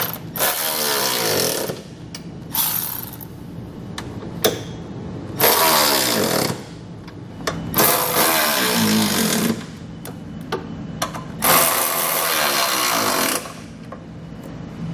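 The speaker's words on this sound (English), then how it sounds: "we can go ahead and grab a socket and snug them all down" Socket tool snugging down trailer hitch bolts on a 2016 Lexus NX 200 while fitting a Curt hitch receiver, heard as several loud bursts of ratcheting or impact rattle separated by short pauses.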